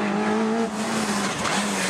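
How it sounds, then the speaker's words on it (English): A Ford Escort Mark II rally car at a stage-rally finish, engine holding a steady high-pitched drone with tyre noise, loud and close for a couple of seconds. "The engine noise echoing around as Ian Hucklebridge and Gary Johnson wrestle"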